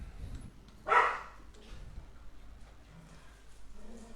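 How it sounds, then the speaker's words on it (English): A pet dog barks once, a short sharp bark at moderate distance, over quiet background game sounds. "Sorry about my dog."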